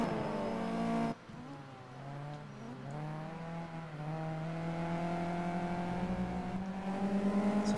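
A Mitsubishi Lancer Evolution racing engine in a racing video game, heard from inside the cockpit as a loud, sustained rising and falling rev through gear changes, steady and close with no talk.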